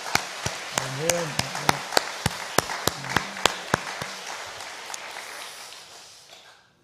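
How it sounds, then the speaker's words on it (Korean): Church congregation applauding for the choir after a Sunday worship service, a broad wash of clapping with sharp individual claps standing out, a brief sung or hummed tone early on, fading out toward the end. "우리 하나님께 한번 축하와 축복의 박수 한번 드리면 어떨까요?"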